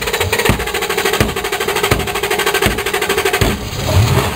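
A Dakota truck engine cranks and catches after its fuel pump is struck, running with a loud, rapid, knocking rhythm that holds steady, then roughens near the end.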